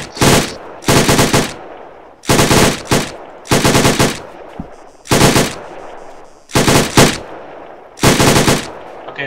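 Machine gun fire on a military training range, in loud, close bursts of rapid automatic shots. About seven sustained bursts are separated by short pauses, with no talking between them.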